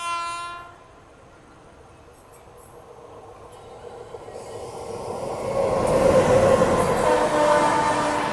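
An Ernakulam Duronto express train passes a halted train at a crossing in India, a low rumble building steadily and growing loud and close over the last few seconds, with faint horn-like tones early on.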